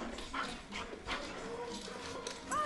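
A Bull Terrier whimpers and yips softly in short, high-pitched bursts against a noisy background.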